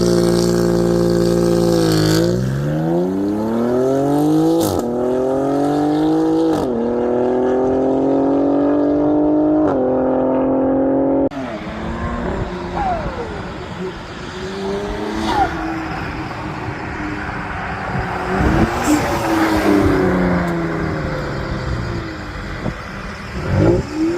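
A 2021 BMW X3 M Competition accelerates hard up a highway ramp, its engine climbing through several gears with loud rising revs and sharp pauses at each shift, then settling into steady road and wind roar at speed.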